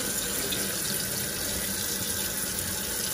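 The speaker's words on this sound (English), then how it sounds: "After we drain it, we rinse it." Sprouting seeds are rinsed under a running tap, a steady close hiss of flowing water filling the whole span with no voices.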